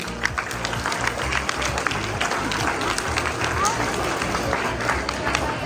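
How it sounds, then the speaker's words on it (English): Clapping from students at a school mathematics quiz, a dense crowd patter layered under a low rhythmic hum, with voices and babble mixed in throughout. "Please clap for him."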